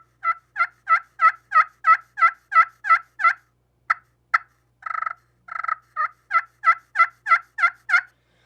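A crystal-over-slate turkey call played alone, producing a long series of sharp yelps and clucks in steady rhythm, close and clear, with a brief pause of softer purrs in the middle before the yelping resumes.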